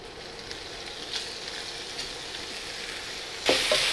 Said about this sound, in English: So this is sizzling away nicely.